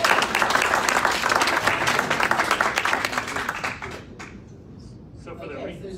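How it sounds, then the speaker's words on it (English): Audience applause at a tech night panel event, a sustained crowd of clapping hands that fades gradually after about four seconds, with a voice starting to talk beneath the tail. "So just another round of applause, please."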